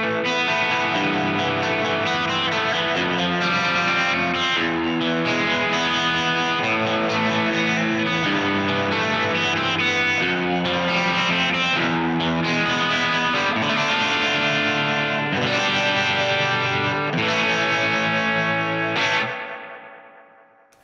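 An electric guitar plays through a Keeley Hydra pedal with tap-tempo tremolo, its sustained chords pulsing in a steady rhythmic throb before the sound fades out at the end.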